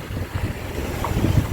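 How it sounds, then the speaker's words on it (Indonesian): Wind buffets the microphone of a Samsung Galaxy A70 phone camera outdoors, giving a continuous low rumbling roar with gusty swells. "lumayan berangin jadi mungkin gak terlalu kedengaran."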